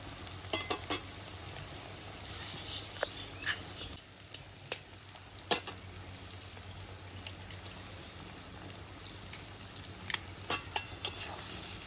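Egg frying with onions in a pan for chow mein gives a soft, steady sizzle at moderate distance. Scattered sharp clinks from a utensil against the pan run through it.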